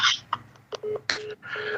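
A telephone keypad dials a quick series of distinct tones, loud and close, each beep separated by short gaps.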